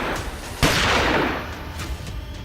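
Single loud gunshot from a firearm fired near a temple, a sharp crack followed by a rumbling echo that decays over about a second, with no talking.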